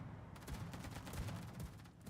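Aircraft bombs and naval gunfire erupt in a World of Warships battle, a quiet, distant-sounding barrage of repeated bursts and rumbling booms packed tightly across two seconds, with no talking.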